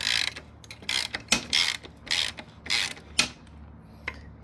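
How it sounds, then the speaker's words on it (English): Ratchet cranking a large 17mm front axle nut on a Triumph Scrambler 400X motorcycle, giving several bursts of rapid, close metallic clicking with short pauses between strokes. "it is a very large nut here that"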